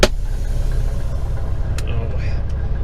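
Flatbed truck engine with a failing bearing, running as a steady, loud, close low rumble and drone, with a few brief clicks and faint squeaks over it.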